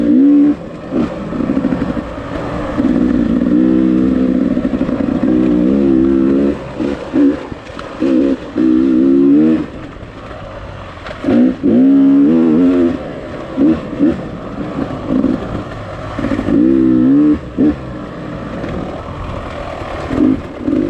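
A motorcycle rides a dirt trail, its engine rising and falling through repeated revs and throttle bursts, loud and close throughout with rattling clatter, no talking.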